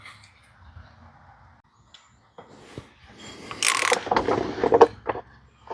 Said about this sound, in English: let's use my filter wrench and get this snug